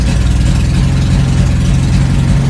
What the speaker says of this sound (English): I'm gonna try a little cold start. The new injectors.